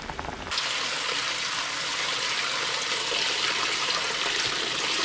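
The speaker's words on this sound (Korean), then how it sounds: "280g을 흐르는 물에 씻어주세요." Tap water running steadily over 280 g of bean sprouts being washed, a continuous close hiss and splash that starts suddenly after a brief moment and continues to the end.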